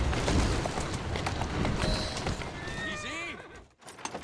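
A horse whinnies and its hooves clip-clop in the Victorian London setting of Assassin's Creed Syndicate, the neigh rising clearly over a busy street-like background and speech.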